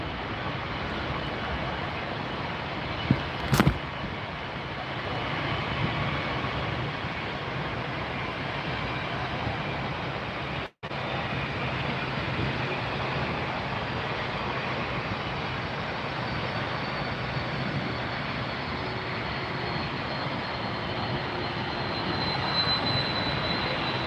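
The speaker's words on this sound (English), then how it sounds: "And I can hear DHL spooling up behind me here." Jet engines on a DHL Boeing 767-300F freighter spool up at Miami airport, a broad, steady distant roar that holds evenly throughout with a sharp brief click near the start.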